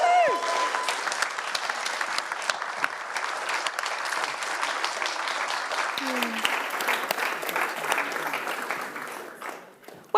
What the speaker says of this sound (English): please give yourself a massive whoop, whoop round of applause